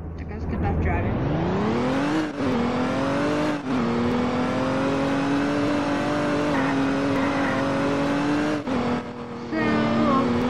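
A car drives in the Roblox game Emergency Response: Liberty County, its engine tone climbing in pitch as it accelerates and then holding a steady drone for several seconds, with brief dips.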